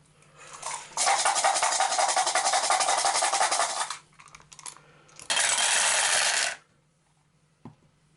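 Eleven dice rolled during an Arkham Horror board game: two bursts of dense clattering rattle, the first about three seconds long and the second shorter, each ending abruptly, with a single faint click afterward.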